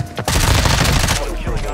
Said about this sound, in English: He just shot Adam.